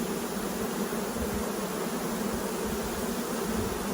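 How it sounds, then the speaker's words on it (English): Honeybees fan their wings inside a queenless hive, a dense, steady buzzing hum that holds unbroken throughout, close and even in loudness with no voices. "They're all pretty much fanning their wings."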